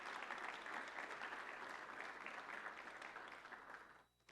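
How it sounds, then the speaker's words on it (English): A conference audience gives a steady, dense round of applause for the organizers. It continues for about four seconds, then tapers off abruptly into quiet. "Quiero que le demos un round of applause por la conferencia que han puesto hoy y mañana."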